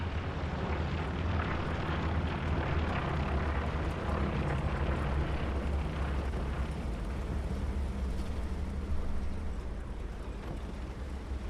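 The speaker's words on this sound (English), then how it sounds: "it looks like a TFMC recon plane following suit" A recon plane in the video game Hell Let Loose drones overhead as a continuous, loud, broadband engine roar that holds steady throughout, mixed with distant battlefield rumble.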